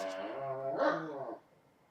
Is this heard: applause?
no